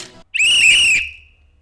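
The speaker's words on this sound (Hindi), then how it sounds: "सीटी आपने पहले बजाई" A quiz contestant on a survival game show sounds one sharp, loud whistle blast that holds steady for roughly two-thirds of a second. It rings out alone, then tails off into quiet.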